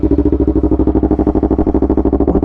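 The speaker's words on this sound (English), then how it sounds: "First startup on the R3 with the eBay exhaust." A Yamaha R3 motorcycle fitted with a cheap aftermarket eBay exhaust idles right after its first startup, giving a loud, close, rapid and even thumping pulse that holds steady throughout with no talking.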